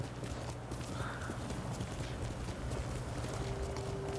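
Horse hooves clip-clop steadily in Ghost of Tsushima, a muted, continuous trot blended into a dense outdoor game ambience with a soft low hum throughout.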